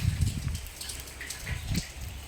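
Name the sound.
rain falling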